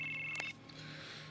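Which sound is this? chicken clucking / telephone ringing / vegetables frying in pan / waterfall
telephone ringing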